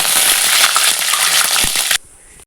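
A loud, bright burst of sizzling as curry leaves hit hot oil with popped mustard seeds, crackling steadily for about two seconds before dropping away sharply.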